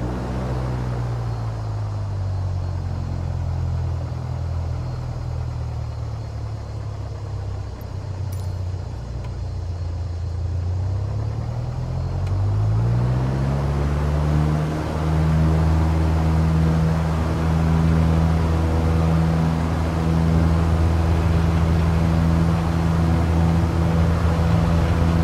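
A Piper light aircraft in Microsoft Flight Simulator 2020 taking off from runway 33 at Luzern-Beromünster: the engine hums steadily, then the propeller drone rises in pitch and loudness as power comes up for the takeoff roll, holding strong to the end.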